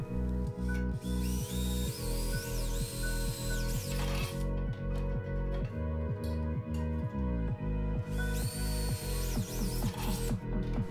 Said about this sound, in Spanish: Con un taladro y una broca para metal haremos los agujeros en las cuatro esquinas.